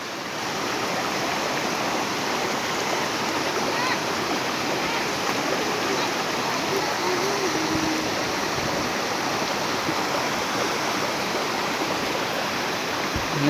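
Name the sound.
waterfall at a dam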